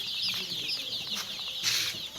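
Six-day-old Tiger breed chicks on a poultry farm keep up a dense, continuous chorus of thin, high peeping and soft clucks, close and fairly quiet.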